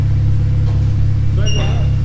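A straight-piped, salvage Honda Civic Type R EP3 fires up, its loud, steady exhaust rumble dominating throughout, with a voice briefly talking over it near the end.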